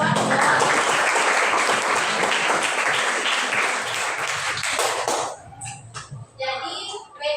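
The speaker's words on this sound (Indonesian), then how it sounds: "Tepuk tangan dulu lawan." A crowd applauds loudly and steadily for about five seconds, then the clapping thins out into scattered claps and a few voices.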